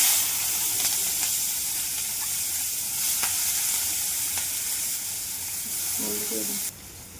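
Onion and white cumin seeds sizzle and fry in hot oil, a steady broadband hiss across the whole stretch with a few sharper crackles and a brief stirring scrape near the end.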